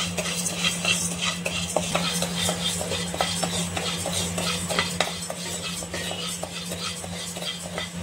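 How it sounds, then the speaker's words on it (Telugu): Moong dal being stirred as it roasts in a pan for a pudina powder recipe, with steady scraping and small ticking taps over a constant low hum. "ఇప్పుడు పెసరపప్పు వేస్తున్నాను ఫ్రెండ్స్."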